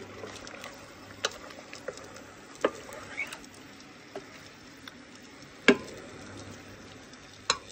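Spoon stirring beef bourguignon in a pot, with scattered scraping knocks and clinks against the pot over a soft, steady sizzle close by.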